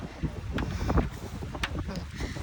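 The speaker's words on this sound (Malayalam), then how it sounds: "നല്ല തണുത്ത കാറ്റ് നല്ല വെതർ" A cold wind blows outdoors on a morning walk near the sea in Turkey, buffeting the microphone with a steady low rumble and occasional stronger gusts.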